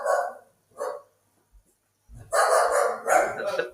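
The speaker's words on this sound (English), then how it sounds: "dog there barking" A dog barks twice with short pauses, then lets out a louder, longer burst of rapid barking up close.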